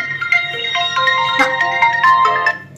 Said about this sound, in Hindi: नहीं ये तो कोई और है, विपिन का तो फोन है।